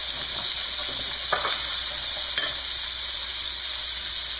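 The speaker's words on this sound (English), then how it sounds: "the vegetables and the onion. And let those cook for a little bit." Vegetables and onion for a healthy chicken pot pie cook in a pan, with a constant close sizzling hiss and a couple of faint utensil scrapes, no talking.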